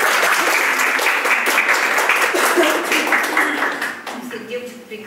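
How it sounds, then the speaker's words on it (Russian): Audience applause for two girl singers at a classical vocal music event, a dense sustained clapping that fades toward the end as a voice begins speaking. "Похлопаем двум девочкам"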